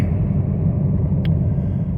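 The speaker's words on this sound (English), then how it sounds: "I'm just tooling the back roads again for a test drive" A 1995 Jeep Grand Cherokee drives slowly along back roads, its engine and tyres making a steady, low interior rumble with no talking.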